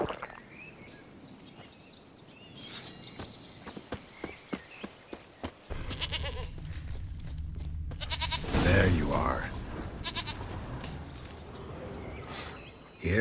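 Goat bleats in The Witcher 3: Wild Hunt, a few short calls mixed with hoof clops and game ambience, heard near and moderately loud while someone speaks over them.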